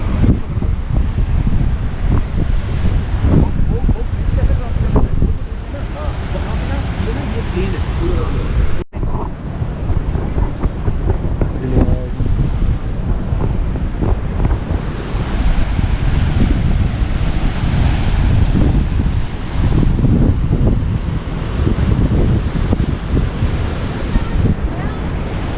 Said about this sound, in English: Super windy. And when the wind comes, we practically all get wet because